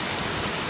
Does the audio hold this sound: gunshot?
no